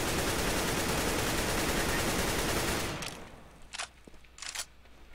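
An AK rifle fires in the video game CS:GO: a loud, continuous full-auto spray for about three seconds, then two short bursts after a pause.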